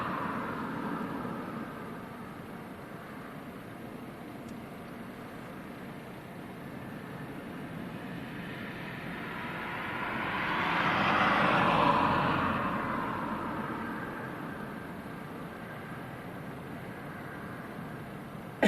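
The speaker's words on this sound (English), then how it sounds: "this is a German Phenom that's on finals." German Embraer Phenom business jet on final approach to Leeds Bradford Airport during a storm, its engine roar rising from distance, peaking mid-way and fading, under steady wind noise.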